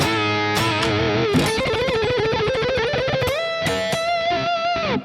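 Distorted electric guitar rips through a fast scale run lick in a neoclassical shred style, notes cascading rapidly before settling onto a long sustained bent note, loud and alone without any talking.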